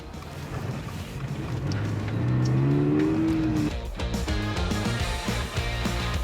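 A Subaru 2.4-litre horizontally opposed boxer four-cylinder engine growls while driving on Tasmanian roads, a loud steady drone that swells and rises in pitch midway as it revs, then settles back under continuous road and wind noise.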